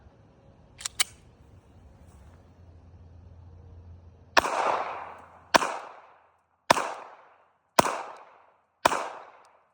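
Glock 42 pistol in .380 firing five evenly spaced shots during a recoil test, each a sharp loud crack with a short ringing decay. A couple of quieter handling clicks come before the first shot, and nobody talks.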